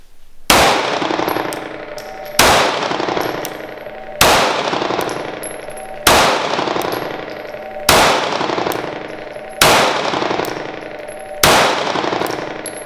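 A Sig P365 pistol fires seven loud, sharp shots spaced roughly two seconds apart. Each report rings out and decays before the next one.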